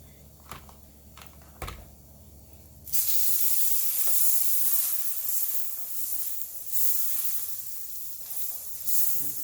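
Sugar and sweet white wine poured into a hot pan while cooking pork chops, with a few taps and clicks at first, then a sudden loud, steady sizzle and hiss that carries on, close up, no talking.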